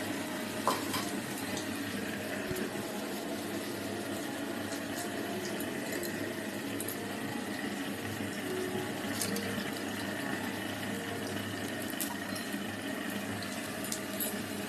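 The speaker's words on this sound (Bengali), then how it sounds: "দেখতেই পেলে তোমরা আমার মাসি পকোড়া করছে।" Pakoras seasoned with nigella seeds and garlic deep-fry in oil, giving a faint, steady sizzling hiss that carries evenly through the whole stretch with no speech over it.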